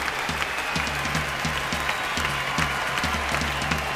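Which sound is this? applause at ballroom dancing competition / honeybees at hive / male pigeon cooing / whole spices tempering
applause at ballroom dancing competition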